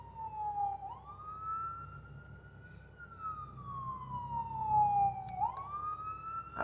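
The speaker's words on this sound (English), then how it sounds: "I hear the siren." A wailing emergency-vehicle siren rises and falls in long sweeping cycles, moderately loud and steady, with faint low traffic rumble underneath and no talking.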